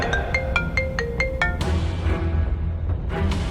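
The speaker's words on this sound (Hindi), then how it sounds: "तभी उसके पास रघुवीर पंडित का फोन आ गया।" A phone rings with an incoming call: a bright, rapid run of repeated electronic tones plays for about a second and a half, then gives way to a dull background hum.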